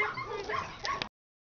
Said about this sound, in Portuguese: Esse cachorro é Nego Drama com macaca.